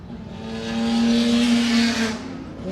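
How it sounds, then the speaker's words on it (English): A 1959 Aston Martin DBR1 race car with a 3-litre straight-six roars past the pits at Goodwood Revival, the engine note swelling loud and close, then easing off as it passes. "DBR1 just passes the pits, making that lovely straight 6 3-litre sound"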